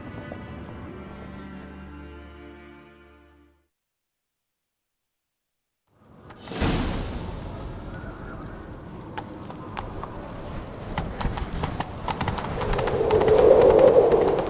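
Galloping horse hooves in The Witcher 3: Wild Hunt pound steadily after a brief silence, loud and close, with a rushing clatter building toward the end; a faint melodic tune plays before the pause.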